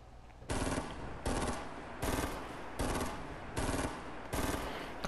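Loud bursts of rapid automatic gunfire in a battle-royale style video game, about five separate volleys spaced roughly a second apart, each sustained and dense, with no talking over them.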